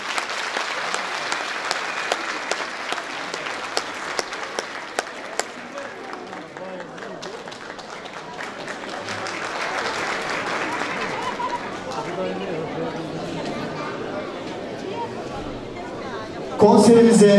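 Audience applause at a Turkish folk music and folk dance association concert, a sustained wash of clapping and crowd murmur from a sizeable hall that carries on for many seconds before a louder burst at the end.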